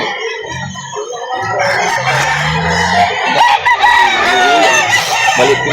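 Roosters crow repeatedly at a chicken market in Lipa City, Batangas, with loud nearby cock-a-doodle-doos and clucking amid market bustle and faint background voices.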